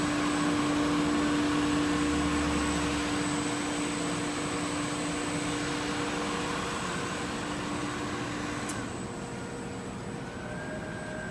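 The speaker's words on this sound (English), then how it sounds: "That's probably just starting the rinse cycle." Proceco parts washer running its rinse cycle, a steady mechanical whir and hum with a constant tone that holds for several seconds before shifting slightly, alone without talk.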